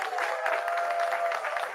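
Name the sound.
audience applause for Greg Castro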